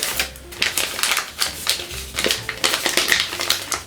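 Sharp crisp paper creases and crackles while an origami dragon head (Ryujin 2.1) is shaped into mountain folds, a close, steady series of dry snaps and rustles with no talk.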